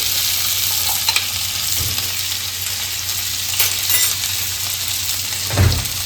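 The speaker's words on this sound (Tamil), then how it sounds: "எண்ணெய் காஞ்சதுக்கப்புறம் இந்த வெங்காயத்தை போட்டு நல்லா வணக்கிடலாம்" Onions sautéing in hot groundnut oil crackle and sizzle steadily at close range, with a low hum beneath and a couple of brief clinks of a utensil against the pan.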